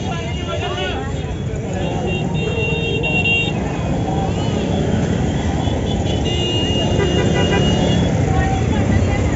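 Dense, loud street traffic on a jammed market road in Lal Darwaja, Ahmedabad, with engines droning steadily and car horns tooting repeatedly, voices and crowd bustle mixed in throughout.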